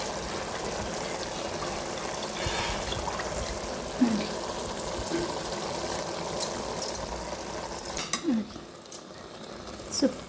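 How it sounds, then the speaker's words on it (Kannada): Water poured into a pot of rice on the stove, a steady soft splashing trickle that runs for several seconds, with a few light clinks of the pot and a faint voice nearby. "ಎಷ್ಟು ನೀರು ಬೇಕು ಅಷ್ಟು ನೀರು ಹಾಕಿ ನಿಡಲ್ ಮುಚ್ಚೋದು"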